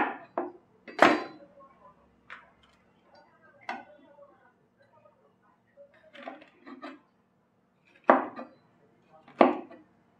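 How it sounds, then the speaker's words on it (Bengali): A knife cuts yellow and green capsicum on a board, making a few sharp, irregular knocks with quiet gaps between them. The room is otherwise quiet. "এবার আমি এই ক্যাপসিকামগুলো কেটে নেবো।"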